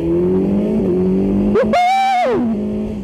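A Suzuki GSX-S1000 four-cylinder motorcycle rated at 152 horsepower accelerates hard as the throttle opens, its engine note climbing through a sharp shift and rising whine, loud and close, with a steady rumble underneath.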